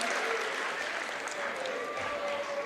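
A gym crowd at a girls' high school basketball game between Austintown Fitch and Howland applauds the four seniors, with steady, dense clapping that holds evenly at moderate volume throughout.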